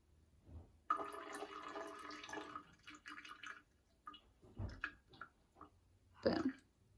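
Water pours from one measuring container into another, a couple of seconds of splashing, gurgling flow up close, then a few quieter drips and small pours, with a sharper splash near the end.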